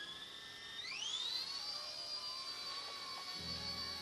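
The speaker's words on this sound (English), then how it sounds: "Recalibrate it, and it seems to be hovering just fine." A small ERA RC A60 radio-controlled helicopter spins up with a rising whine that settles into a steady high-pitched hover tone, with a low thump near the end, quiet and without speech.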